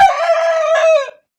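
A rooster crows once, loud and close: a single drawn-out cock-a-doodle-doo lasting about a second, then silence.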